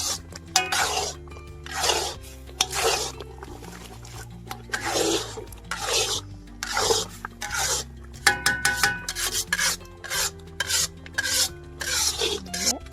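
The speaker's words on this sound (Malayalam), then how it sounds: "ഇങ്ങനെ അടുക്കി പിടിക്കാതെ ഇളക്കി കൊടുത്തോണ്ടേ ഇരിക്കണം" Jackfruit halwa with raisins being stirred in a pan: a steady series of close, loud rasping scrapes as the spoon drags through the thick mixture, repeating about once a second with brief pauses and no talk.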